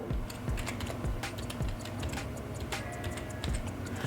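Soft, irregular clicking of computer keyboard keys being typed on nearby, with a faint steady hum in the background.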